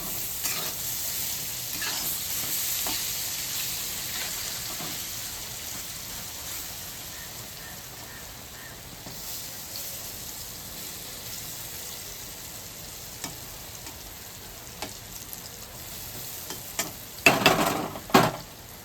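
Food fries in a pan with a continuous soft hiss and crackle like light rain, close by, ending in a few louder clatters of a utensil turning it over.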